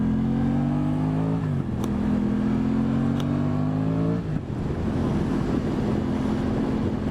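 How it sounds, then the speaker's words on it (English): Aprilia Tuono 660 motorcycle riding through Italy, its engine droning steadily with tonal shifts at each upshift and brief sharp pops around the gear changes, wind rushing over the microphone, with no talking. "there's like a little bit of a backfire every time I upshift"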